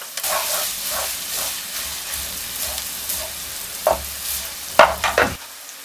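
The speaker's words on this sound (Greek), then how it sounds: "Θα προσθέσουμε και το σκόρδο" Garlic and onion sizzling in a pan for pastitsio, a steady close frying hiss with stirring strokes and a few sharper clatters toward the end.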